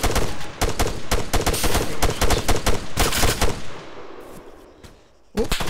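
Rifle fire in the military shooter game Arma III: rapid bursts of loud, close gunshots cracking in quick succession, then a fading tail into near silence before another shot at the end.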